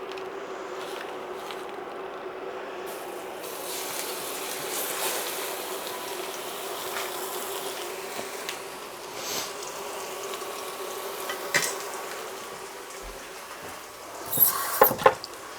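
Beef browning in hot olive oil sizzles with a steady, dense crackle and a few louder pops and spatters near the end, heard up close with no talk.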